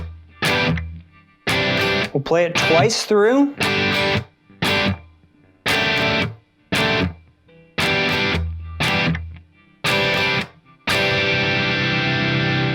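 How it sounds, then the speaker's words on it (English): Distorted electric guitar with effects playing the intro chords of a song, choppy strummed bursts with a wobbling bend in the middle, ending on a sustained chord; someone speaks briefly at the start. "that intro guitar looks like this"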